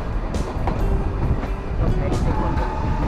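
Toy train running between Ooty and Coonoor, heard from on board as a steady, close, loud rumble with faint rhythmic clatter throughout.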